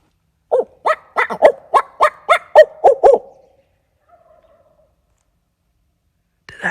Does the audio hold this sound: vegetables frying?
no